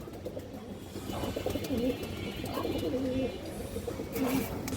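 A pair of boot-beaked Chuithal (Jutiyala) pigeons coos in several short, repeated phrases, close by and moderately loud, over a steady noisy background with no speech.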